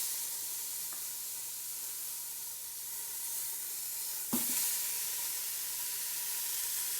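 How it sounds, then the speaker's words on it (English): Pork chops sear in the hot pot of a Ninja Foodi or Instant Pot, a steady broad sizzle throughout with one brief clatter of meat being placed or moved. "We're gonna now sear our meat."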